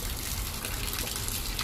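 Water gushes out of an air conditioner drain line in a steady, loud, continuous rush that holds without a break.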